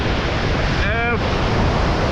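Spray from a big waterfall in Idukki, Kerala, heard from very close: a loud, steady roaring rush with wind buffeting the microphone and a brief voice-like tone midway.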